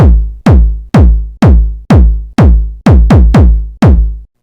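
Punchy electronic 909-style house kick drum hits repeat about every half second, deep and booming with a quick decay and no processing, with a couple of faster doubled hits near the end.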